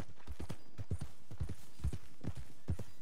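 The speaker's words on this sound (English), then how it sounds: "That's a strong looking horse." Horse hooves clip-clop at a steady walking rhythm in Red Dead Redemption 2, with a series of close, evenly spaced hoofbeats running through the whole moment and nothing else competing.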